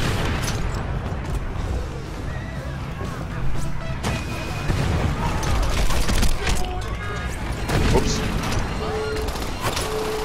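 Grenade blasts and gunfire in the video game Crackdown make a dense, chaotic stretch of booms and crashes, with a sharp explosion near the middle and more bursts later, while a voice talks over the action.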